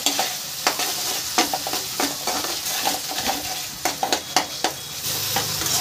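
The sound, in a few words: spice paste (masala) with tomato frying in a pan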